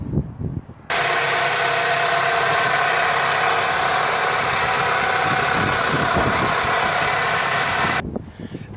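A 2000 Toyota Camry engine idles with a steady, even hum and close vibration, running alone and without a break for most of the stretch before cutting off near the end.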